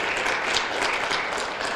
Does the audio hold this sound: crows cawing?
no